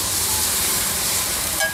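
Cumin, capsicum, curry leaves and onion fry in hot oil for a street-food egg dish in Surat, India, giving a loud, steady sizzling hiss close by, with brief clattering near the end.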